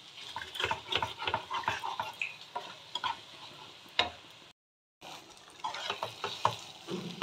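Loitta (Bombay duck) fish fries and sizzles in a pan while a spatula stirs and scrapes it in quick, uneven strokes. The sound is close and cuts out in a short silent gap partway through.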